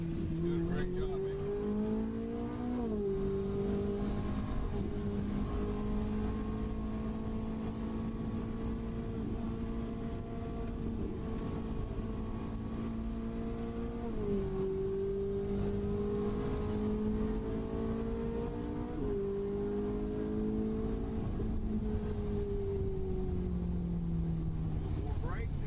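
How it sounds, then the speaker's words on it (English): A car lapping the Walt Disney World Speedway on an exotic driving experience, a loud steady engine drone with repeated pitch drops from braking and downshifts, then climbing again as it accelerates, with a voice talking over it. "2 laps around the exotic driving experience at the Walt Disney World Speedway"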